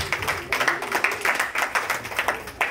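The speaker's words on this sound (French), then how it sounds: "Acclamons la parole du Seigneur." A church congregation at a Sunday prophetic service claps along in a steady rhythm, many hands sounding together in a roomy space, with no speech over it.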